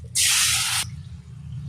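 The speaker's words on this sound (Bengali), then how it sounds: "হলুদ দিলাম তেলের মধ্যে।" Turmeric hits hot oil in a pan, giving a sudden loud sizzling hiss close by that lasts under a second and then dies down to a low background murmur.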